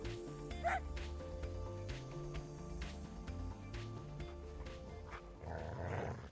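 A dog in a visual novel game cries in pain with short yelps and whimpers, scattered over a steady low musical backdrop, ending with a rougher burst of sound.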